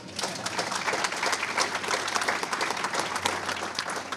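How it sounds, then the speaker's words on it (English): Sustained audience applause for Nigeria during an address on Africa, a broad, even roar of clapping from a large crowd lasting the whole moment without any voice over it. "I think I'll stop here and ask you to applaud Nigeria."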